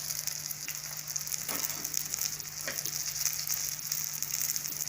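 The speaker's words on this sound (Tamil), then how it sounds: "இதெல்லாம் திருப்பி விட்டு 2 பக்கமும் நல்லா பொரிச்சு எடுத்துக்கோங்க" Tilapia fish frying on a tawa, a steady close sizzle of hot oil running throughout the clip with faint crackles and no voices.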